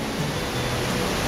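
A waterfall in Chiapas, Mexico pours as a dense, continuous roar of rushing water, loud and steady with no breaks.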